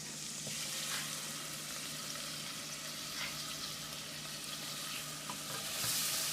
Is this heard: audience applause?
no